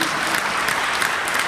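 Audience applause fills a closing ceremony hall at the 2017 AFI Global Policy Forum, a dense, steady wash of many hands clapping with no break, loud and close.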